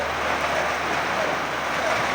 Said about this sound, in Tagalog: ayan umuulan dito sa amin.